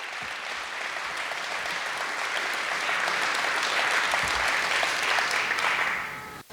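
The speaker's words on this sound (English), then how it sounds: "So let's give Dr. Givens a round of applause" Audience applause at a farewell celebration for a retiring institution leader, a steady, full round of clapping from a large crowd that swells slightly midway and then tapers off at the end.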